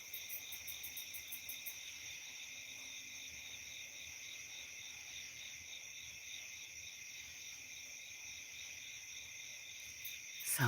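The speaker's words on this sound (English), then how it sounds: "Cicadas, grasshoppers, crickets, tree frogs." Crickets, cicadas, grasshoppers and tree frogs trill in a steady, layered pulsing chorus through the Alabama night, soft and continuous with no voices.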